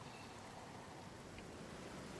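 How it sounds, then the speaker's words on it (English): Rain in the dinosaur park builder game Dinosaur King Park makes a steady, faint, even hiss with no clear individual drops. "The rain is coming, apparently."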